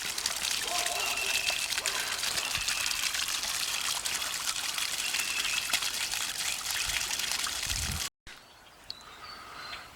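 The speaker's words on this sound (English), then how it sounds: "Give you a little running water" Water pours steadily out of a barrel, a loud, continuous close-up gush and trickle lasting several seconds before cutting off, followed by quieter dribbling.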